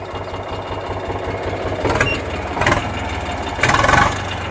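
An Eicher 485 tractor engine idles with a steady, rapid knocking rumble up close, swelling louder in a few brief surges.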